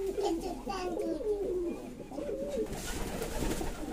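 Fancy pigeons in a loft give low, rolling coos close by, with faint children's voices and general background noise behind them.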